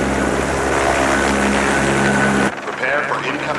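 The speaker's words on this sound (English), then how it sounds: "Prepare for incoming chopper." An incoming military helicopter's rotor and engine roar loud and continuous, then cut abruptly to a quieter, distant hum.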